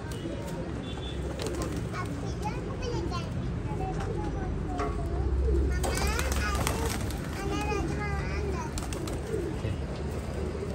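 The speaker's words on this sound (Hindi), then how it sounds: "सारे टैडी कबूतर हैं अपने घर के" Teddy pigeons coo repeatedly at close range over a constant low hum, with a few chirps and faint voices in the background.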